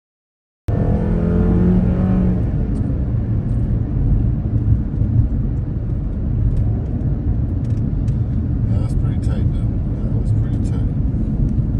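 The US president's helicopter flies overhead near the Richard Nixon Library, a steady loud low rumble that holds throughout while people talk over it.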